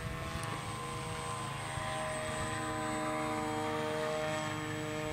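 A blended wing body model airplane flies in wind, its electric motor giving a steady, continuous buzzing whine throughout with rushing wind noise underneath.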